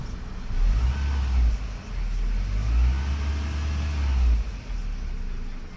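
The 2.2-liter engine of a late-1990s Toyota Camry idles smoothly with no fault codes present, giving a steady low rumble close by that swells slightly and then settles again.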